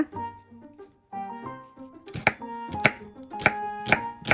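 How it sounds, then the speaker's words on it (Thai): A knife chops onion into small pieces on a board for Japanese-style beef hamburg steak, a run of sharp, regular knocks about every half second, close and crisp, with kitchen sounds before the chopping starts. "อย่างแรกเราก็มาซอยแล้วก็สับหอมใหญ่ให้เป็นชิ้นเล็กๆเลยนะคะ"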